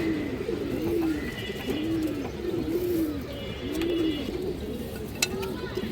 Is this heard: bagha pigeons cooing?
yes